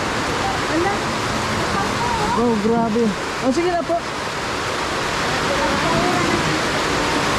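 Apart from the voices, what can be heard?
heavy rain pouring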